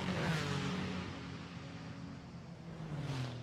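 Race-leading BMW GT4 car at Imola circuit during a GT4 Europe race, a steady mid-pitched engine drone held at moderate distance throughout, with a faint rising and falling tone as it runs past.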